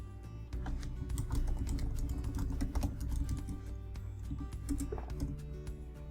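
A website URL is typed on a computer keyboard as a quick, continuous run of close key clicks with uneven rhythm over a low room hum, and no one speaks.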